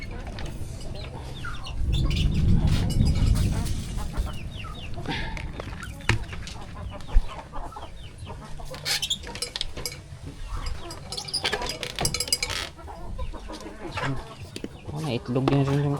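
Chickens on a rural Philippine farm cluck and chirp repeatedly at close range, along with scattered rustling and handling noises, while a person talks intermittently.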